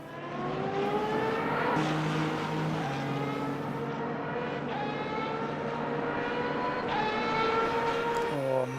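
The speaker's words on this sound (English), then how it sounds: "that gear change. That upshift sound." A race car in Le Mans Ultimate runs at high revs, its engine note climbing in rising sweeps and dropping sharply at several upshift gear changes, loud and close throughout.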